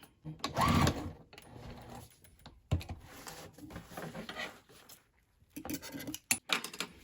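A sewing machine stitches a fabric memory bag, its motor whirring in short runs broken by pauses, close and fairly loud, with faint handling noises between the bursts.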